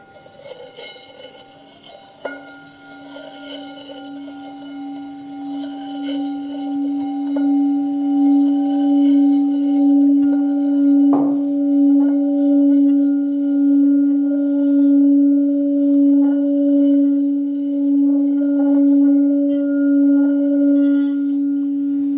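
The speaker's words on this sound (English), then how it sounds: "When the last sound of the gong vanishes, fades away" A meditation gong is struck and its steady ringing tone sustains and slowly fades, with a second strike midway, heard alone in a quiet room.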